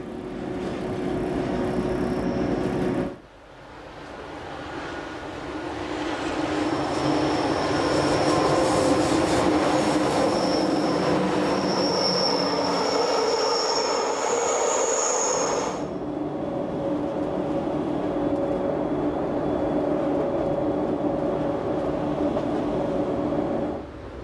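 A Swiss Glacier Express train runs loud and steady through a spiral tunnel near Preda, its wheels rumbling the whole time and squealing on the curve, and the sound changes abruptly as the train passes into and out of the tunnel.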